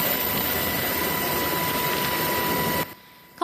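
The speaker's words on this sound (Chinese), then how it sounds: "空勤直升机飞来到灾区的空中" A rescue helicopter flies over the earthquake disaster zone in Hualien, Taiwan, a steady droning engine and rotor roar with a faint tone, cutting off abruptly just before the end.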